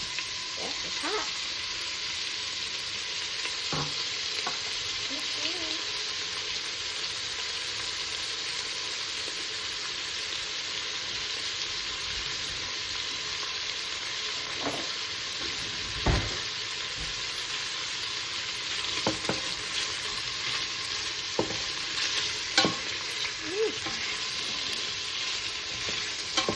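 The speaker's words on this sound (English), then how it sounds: "just gonna cook it until the sausage is brown" Sausage frying in hot oil for a New Orleans-style jambalaya, a continuous soft sizzle with occasional pops and stirring clatter, close and steady with no talking.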